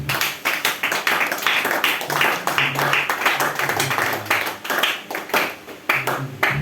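A church congregation claps in a steady rhythmic beat during worship acclaiming Jesus, with voices singing or calling out underneath.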